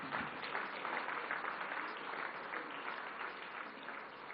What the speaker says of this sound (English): Ladies and gentlemen, can we please have a round of applause?